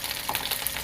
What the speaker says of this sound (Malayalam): എണ്ണ ചൂടാക്കി കരിവേപ്പില, പച്ചമുളക്,